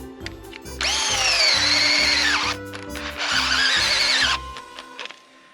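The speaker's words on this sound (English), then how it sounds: "I got my drill, probably not gonna make it through" A power drill bores a tap hole into a maple tree for syrup, whining loudly in two long bursts with a short pause between them, while a steady low hum runs underneath throughout.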